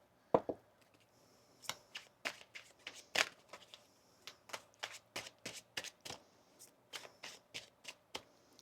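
Tarot cards are shuffled and riffled in a steady series of soft, crisp slaps and flicks, close up, with no talking.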